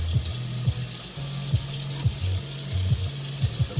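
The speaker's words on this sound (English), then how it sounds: "let's rinse, cold water drain." Cold tap water runs steadily into a sink as instant Marutai Hiyashi Chuka soba noodles are rinsed and drained, a close, even splashing rush with small clunks from handling the noodles.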